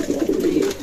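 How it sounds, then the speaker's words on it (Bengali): Pigeons at a pigeon farm coo in a soft, low, rolling call that fills the whole short moment, close and steady with no talking. "এই যে কবুতরটা দেখছেন"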